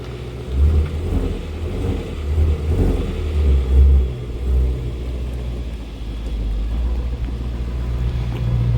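A 2016 Shelby GT350 Mustang idles and revs on its factory exhaust, a subdued low rumble with a few soft blips rising and falling, fairly quiet and close.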